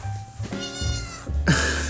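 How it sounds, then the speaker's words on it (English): A pet cat lets out two drawn-out, close meows, the second rising and more strained, with a brief pause between them and nothing else competing. "That was my cat."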